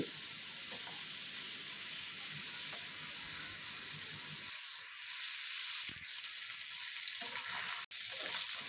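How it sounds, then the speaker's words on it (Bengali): Pieces of katla fish fry in a pan with a steady, close sizzle and occasional stirring sounds; the frying continues alone without speech. "মাছগুলো আমি উল্টে পাল্টে প্রায় দেড় মিনিটের মতো ভেজে নিয়েছি"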